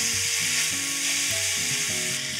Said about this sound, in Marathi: सोया सॉस, चिली सॉस, थोडासा टोमॅटो सॉस देखील आणि हे क्विकली स्टर करूया